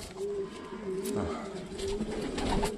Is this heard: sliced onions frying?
no